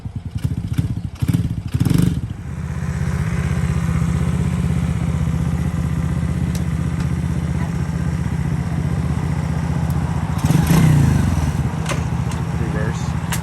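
A 125cc Coolster ATV engine runs steadily at a mid-pitched drone while being ridden, with clattering thumps near the start and a brief surge toward the end.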